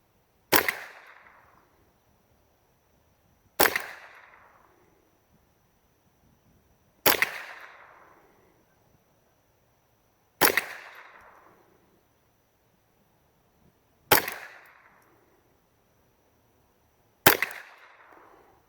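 Six evenly spaced rifle shots fired from a shooting bench while testing new ammunition, each a sharp, loud crack with a short decaying echo, separated by about three seconds of quiet.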